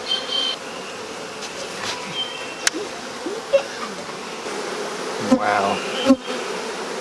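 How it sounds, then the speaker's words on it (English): Dense buzzing of many honey bees bearding at the front of a hive, a constant insect drone with occasional louder passes close by. "You can see all the bees in the front."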